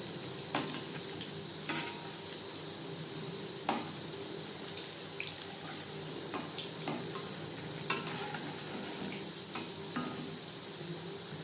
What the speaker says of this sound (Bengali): তেল আমি গরম করে নিয়েছি ভাজবো মিডিয়াম ফ্লেমে